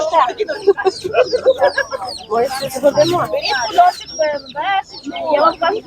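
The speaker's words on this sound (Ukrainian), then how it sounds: "Кури і кури." Several chickens cluck and chatter continuously at close range at an animal market, with busy overlapping calls and some voices talking underneath.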